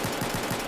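Pistol firing in Battlefield 4, a fast, evenly spaced string of about five or six shots in under a second, loud and close.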